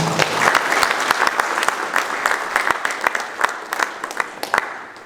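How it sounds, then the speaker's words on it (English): An audience at the opening ceremony of the Squash Federation of Africa Seniors Championships applauds the guest of honor, a lively, sustained round of clapping with sharp individual claps popping out of the crowd noise. "Another round of applause, please."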